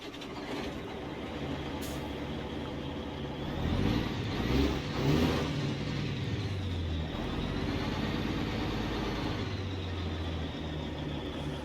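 A Mack Superliner truck engine in American Truck Simulator cranks over and settles into a deep, steady diesel idle rumble, with a brief swell in the middle and no talking.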